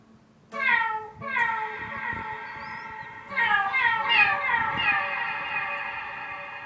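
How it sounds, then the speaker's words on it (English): A guitar played through a cat effect pedal gives long gliding meow-like tones, one short cry followed by two longer drawn-out wails, up close and clear with no talking over them. "Let's talk about the cat pedal."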